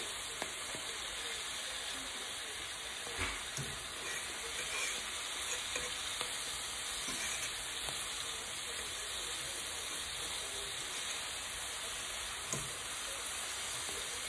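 Sauce for seafood stuffed pasta cooking down in a pan gives a steady, even sizzle and bubbling hiss throughout, with a few faint clinks.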